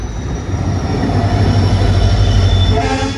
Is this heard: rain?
no